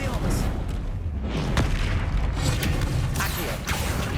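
The Expelliarmus spell effect in the Hogwarts Legacy video game, loud and continuous, with booming magical blasts, mechanical clatter and sharp impacts under a voice speaking.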